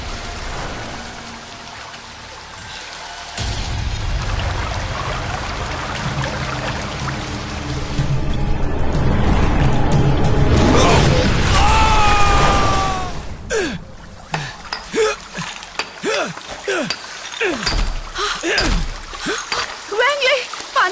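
Water pours and splashes steadily, swelling louder midway before breaking into scattered sloshing bursts, with gasps and voices over it.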